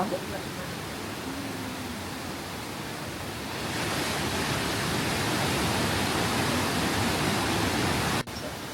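Rogie Falls waterfall in Scotland roars as a broad, steady rushing wash that swells louder partway through, with no talking.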